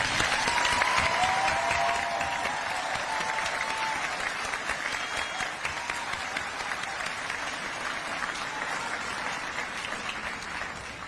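A commencement audience applauds graduates at a university ceremony, dense crowd clapping that starts loud and slowly tapers, with faint voices and a brief whistle-like tone in the mix.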